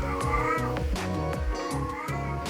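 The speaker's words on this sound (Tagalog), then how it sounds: "And that's our cat." A pet cat meows repeatedly indoors, several distinct harmonic cries in an uneven rhythm, close and fairly loud, with no talking over them.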